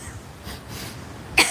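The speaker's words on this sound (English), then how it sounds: "I just cough on you." A single sharp cough bursts out near the end, close and loud, after a stretch of quiet outdoor background on a windy beach.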